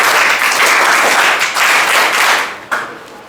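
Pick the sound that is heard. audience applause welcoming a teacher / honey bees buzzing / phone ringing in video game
audience applause welcoming a teacher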